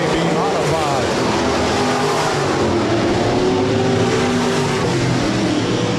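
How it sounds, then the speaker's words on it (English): USRA B-Modified race cars roar through a heat race at Rapid Speedway, a loud, continuous engine drone with shifting pitch as the pack circles the track. "heat race number 1 of 3 for the USRA B-Modified"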